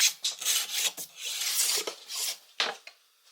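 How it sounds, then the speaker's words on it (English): Close, brisk scraping of a plastic scraper pulling wax off a ski, a quick series of rough rasping strokes of varying length with short pauses between them. "If you're doing the edge of the ski, use the end of the scraper so you don't dull the scraping surface."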